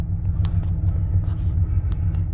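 A Ford F-150 pickup idles with its check engine light on, heard from inside the cab as a steady, even low rumble with a faint pulsing throb and no voices.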